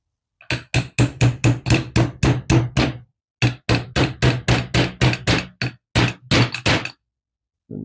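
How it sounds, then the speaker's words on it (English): A hammer taps a block of wood held against an engine piston during installation. About two dozen sharp, evenly spaced knocks come close and loud in quick runs, with short pauses between the runs. "let's just get a bit of wood, sit it on there so I can just tap it on there"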